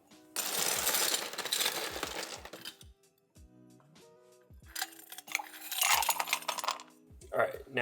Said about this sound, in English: now we've got some ice in it